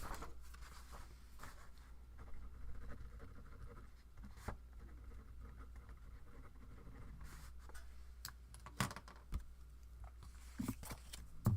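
Notes being written by hand at a tarot and yearly energy planning session, quiet pen strokes and scratching on paper with occasional taps and page rustles, close and faint over a low hum, with no voices.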